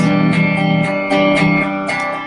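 Steady chords of a song strummed on an acoustic guitar in an even down-up rhythm, full and close, with no voices.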